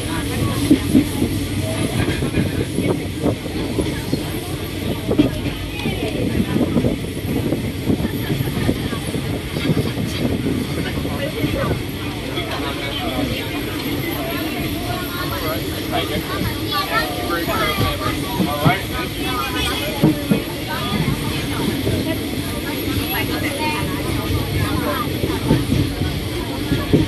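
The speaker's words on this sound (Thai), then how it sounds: "มีรถไฟฟ้าสายสีแดงกำลังวิ่งอยู่นะฮะซีโบกี้นะครับ" A four-car Red Line electric train runs by with a continuous rumble and rail clatter, while a voice talks over the noise.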